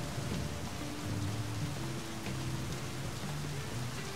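Rain falling in the video game My Summer Car, a steady broad hiss of downpour with soft low tonal hums beneath it, continuous throughout with no voices.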